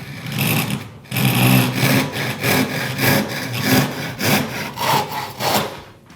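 Hand sawing of wood to cut out a piece for a cell phone stand, close and rhythmic with about a dozen steady back-and-forth strokes after a brief pause, no talking.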